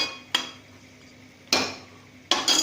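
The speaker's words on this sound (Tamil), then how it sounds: "தண்ணி தெளித்து கிளறி கொடுத்து இந்த மாதிரி ஒன்றா சேர்த்து வச்சுக்கணும்" A utensil scrapes and clanks against a pan while stirring ivy gourd sprinkled with water, three distinct sharp strokes spaced apart over a faint background hum.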